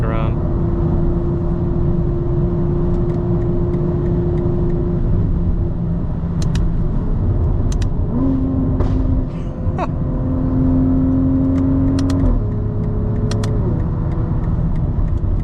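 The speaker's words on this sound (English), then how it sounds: "when we let off, you got that bass in the exhaust" BMW M340i xDrive with a custom XHP tune, its exhaust giving a steady deep bass drone from inside the moving car, with pitch swells as the throttle is lifted and people talking over it.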